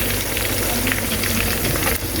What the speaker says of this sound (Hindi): अब इसको फ्राई करेंगे